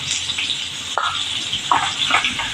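Turmeric dropped into a hot oil tempering for a spicy radish stir-fry sizzles with a steady, close frying hiss, broken by a few soft stirring clinks and scrapes.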